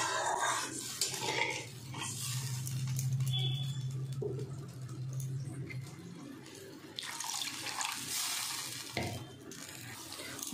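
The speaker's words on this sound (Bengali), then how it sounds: "মশলাটা ফ্রাই হয়ে গেছে, এবার আমি জল দিয়ে দেব।" Water is poured into fried spice paste in a pan for a Bengali fish curry, making a running, splashing pour with sizzling and clinks of utensils, fairly close and with no talking.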